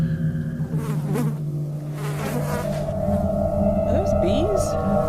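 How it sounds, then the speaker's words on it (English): A swarm of houseflies buzzes close and steadily indoors, a dense continuous drone that holds for the whole stretch while a voice talks over it. "Are those bees? It's flies."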